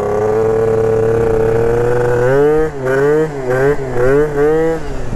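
A 70cc-converted Piaggio Zip scooter engine on its first ride, droning steadily and then revving up and down in several loud, buzzy surges close by.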